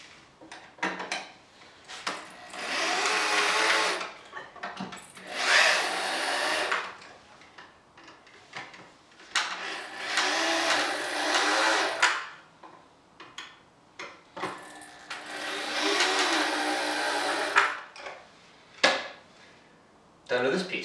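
A power tool drives fasteners into a wooden shelf support on a DIY workbench, with four long bursts of whirring separated by pauses and small clicks.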